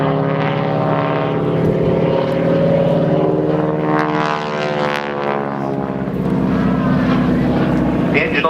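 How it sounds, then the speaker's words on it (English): A North American Harvard propeller trainer with a 600 horsepower Pratt & Whitney R1340 Wasp radial engine drones loudly overhead at an air show, its rasping tone rising and shifting in pitch as it passes. "The engine on the Harvard, a 600 horsepower Pratt & Whitney R1340 Wasp"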